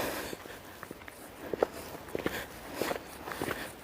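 Footsteps crunching along an outdoor path at the bottom of a hill past houses, a steady series of soft close crunches, fairly quiet with faint background noise.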